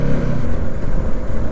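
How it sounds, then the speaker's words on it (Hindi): A Bajaj Pulsar NS200 motorcycle engine revs in a loud, steady, throaty rumble heard up close, with dense roaring noise and no break. "NS 200 चलाने से कभी कभी लगता है पूरा सुपर बाइक चला रहा है जैसा, मतलब इसका साउंड ऐसा है ना पूरा कोई निंजा का कोई बाइक चला रहा है"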